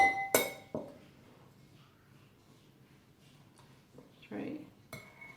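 Dessert spoons clink against a bowl and containers while almond flour is measured, giving a few sharp metallic taps and soft scrapes with quiet gaps, close and faint, with someone talking.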